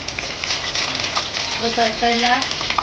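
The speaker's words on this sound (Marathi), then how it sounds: "आपण आता या साराला फोडणी करूया" Steady crackling sizzle of curry leaves frying in hot oil for tempering, with a person speaking briefly over it.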